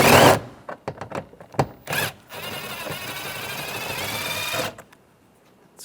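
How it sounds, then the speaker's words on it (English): A 7mm socket backing a screw out of a Chevrolet Silverado door, heard as a close burst of clicks and knocks followed by a steady whirring spin of a few seconds, then quiet. "Using a 7mm socket,"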